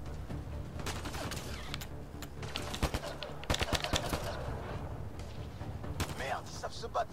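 Incendiary-round gunfire in the Mass Effect Andromeda video game: a dense run of sharp shots and bursts, some closely spaced, over a steady backdrop of game noise and effects.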